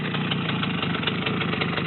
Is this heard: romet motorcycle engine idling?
yes